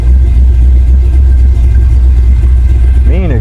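LS V8 swapped into a 1965 Chevrolet C10 idling with a loud, deep, steady exhaust rumble, close to the microphone, with a brief pitch wobble near the end.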